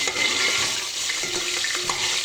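Eggplant frying in hot oil, a loud, close, continuous sizzle with faint bubbling and a few soft stirring knocks.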